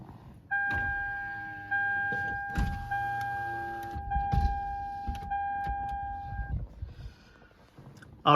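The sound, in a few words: 2010 Toyota Camry power window rolling down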